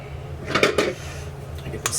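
Pecan pie filling poured into a dish, with a few clinks and scrapes of a spatula against the bowl, close and moderately loud.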